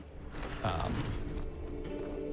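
Door in Amnesia: The Dark Descent clicked and creaking open, a mechanical latch clack followed by a sustained wooden creak, with faint background noise.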